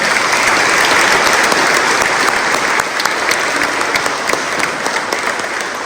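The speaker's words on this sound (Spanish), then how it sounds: "¡Aplauso al Señor de la Exaltación!" A crowd applauds at a religious festival honoring the Señor de la Exaltación, a loud dense clapping that holds steady and then thins slightly.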